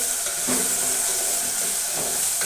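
Potatoes cooking in hot oil give off a steady, close sizzle with faint crackles, running continuously without speech.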